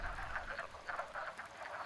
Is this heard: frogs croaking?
yes